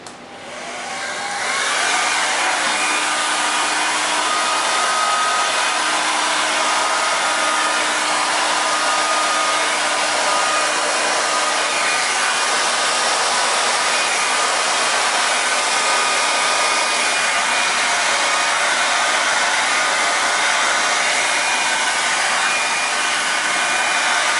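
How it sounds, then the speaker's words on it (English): A hair dryer on no heat blows steadily and loudly over epoxy resin for the whole stretch, a constant whooshing roar that starts abruptly and never changes. "I'm just going to be taking a hair dryer, a regular hair dryer, no heat, just the air itself"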